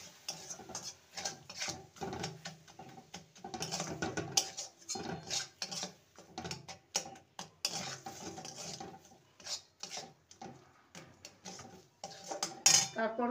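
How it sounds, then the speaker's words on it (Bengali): A spoon scrapes and clinks steadily against a pan while semolina filling with milk is stirred off the heat, with close, busy metallic taps and scrapes throughout and no talking. "অফ করে দিয়ে এটাকে ভালো করে নেড়ে নিতে হবে।"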